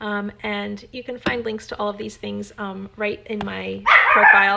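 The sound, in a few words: dog barking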